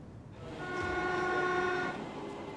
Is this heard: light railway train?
yes